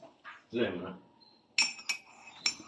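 A spoon stirs a honey drink in a glass, giving a few bright, sharp clinks close by after a brief vocal sound, with quiet gaps between strikes.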